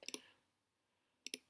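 A computer mouse clicks twice, each a crisp double tick, separated by about a second of silence; quiet and close, with nothing else audible.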